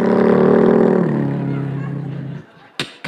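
A comedian imitates a little toy car with his voice, a sustained buzzing engine drone that dips in pitch and fades, followed by a brief sharp burst of noise.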